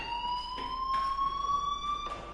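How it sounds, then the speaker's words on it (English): A school fire alarm in the video game Life Is Strange rings as a continuous electronic tone that rises slightly in pitch, with steady harmonics and brief pulsing bursts, moderately loud with no speech. "do you hear that fire alarm? That means you should be outside."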